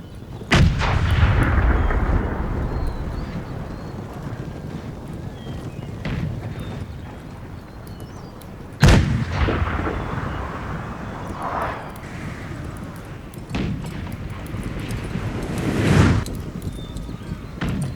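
Artillery in Napoleon: Total War at the battle of Borodino, with deep booming cannon shots spaced several seconds apart over a continuous battlefield rumble and galloping cavalry hooves, loud and close with no talk.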